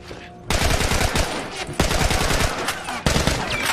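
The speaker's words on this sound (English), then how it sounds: "Fighting with machine guns?" Sustained automatic machine gun bursts from a firefight in The Last of Us, loud and close, rattling continuously with sharp new volleys breaking in partway through.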